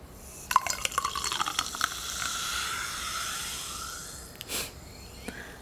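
Glasses clink together in a toast, a cluster of bright taps and rings early on followed by a lingering ringing tone, with one more sharp clink near the end, fairly close and without talk.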